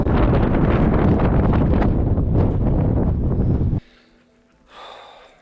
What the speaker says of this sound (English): This weather does look like it's rolling in now. Behind, it's a little windy as well.